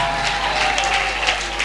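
Church congregation clapping and cheering during a worship service, a dense steady wash of applause over a constant low hum for the whole stretch, with no speech.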